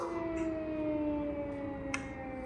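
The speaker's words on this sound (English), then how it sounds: "I think I have a siren here." A steady wailing siren drones in the distance, long sustained tones holding over a constant background rush, with no talking.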